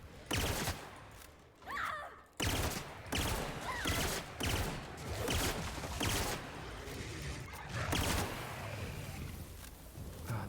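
Gunfire bursts in The Outer Worlds video game, rapid shots fired in repeated clusters with short pauses between, loud and close, no talk over them.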